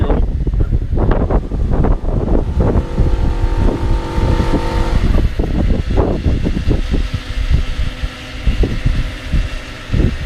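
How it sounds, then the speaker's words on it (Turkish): Loud, gusty wind buffets the microphone in rough bursts, with a steady engine hum underneath at times. "Hava niye bu kadar rüzgarlı?"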